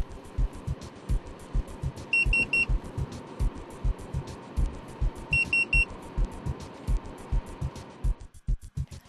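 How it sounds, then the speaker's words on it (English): Two bursts of rapid high electronic beeps from a vehicle head-up display speed warning sound a few seconds apart over a steady low rhythmic rumble of a moving car. "the display warns the driver by flash and beep."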